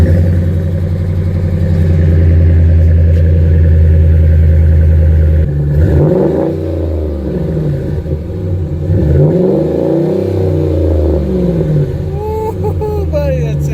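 A car engine fitted with a K&N 77-1561KP cold air intake idles with a low steady hum, then is revved repeatedly in rising and falling sweeps, loud and close, with clattery mechanical noise.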